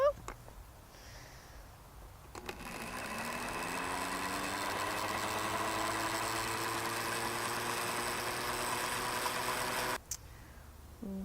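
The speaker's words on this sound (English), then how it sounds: "And we're just gonna blend this together." A blender runs steadily for about seven and a half seconds, whirring a strawberry ginger salad dressing. It starts abruptly and cuts off, with quiet, brief handling noise before and after.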